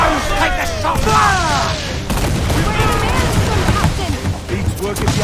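Ship cannons fire a broadside in a naval battle in Assassin's Creed IV Black Flag, with heavy booming volleys and cracking gunfire. A crew member shouts over the rolling blasts.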